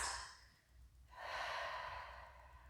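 Slow, deep breaths during a prenatal Pilates mat class with a small ball, a soft airy exhale then a longer, fuller inhale, close and quiet with no talking.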